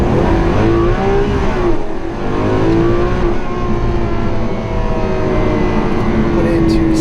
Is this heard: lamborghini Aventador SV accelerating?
yes